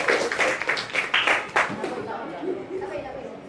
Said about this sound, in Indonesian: Kasih aplaus yang meriah untuk kelompok 1